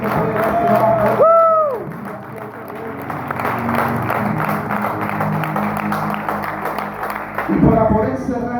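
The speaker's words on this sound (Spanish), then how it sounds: "Dale un fuerte aplauso a Dios por donde estás" Congregation applauding and cheering in a church service, a loud crowd of clapping with whoops and voices, a sung or shouted tone rising near the start, sustained throughout with a fresh swell near the end.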